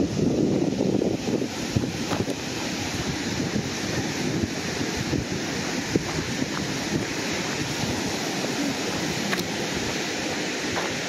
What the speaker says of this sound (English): So here's the beach